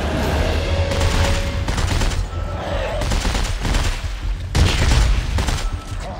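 Repeated gunfire from a strengthened weapon in the video game Dead Space 3, loud bursts of shots with booming impacts over a dense, noisy game soundscape, continuing throughout with brief pauses.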